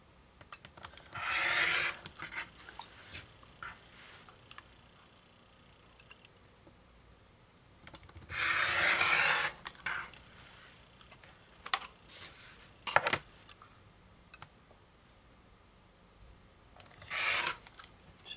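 Fabric quilt pieces being trimmed along dotted lines, several short rasping cutting strokes separated by long quiet pauses, close and fairly soft.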